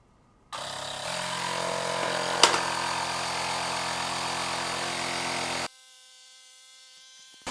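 A UIBI car jump starter's built-in 150 PSI air compressor switches on after a brief silence and runs with a steady buzzing whir, a sharp knock partway through, then shuts off abruptly, leaving a faint electronic hum.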